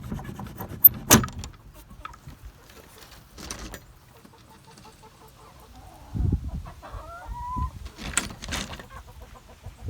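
Free-range chickens around an open coop, with soft intermittent clucks and a few short calls scattered through the clip, some shuffling and rustling close by, fairly quiet overall.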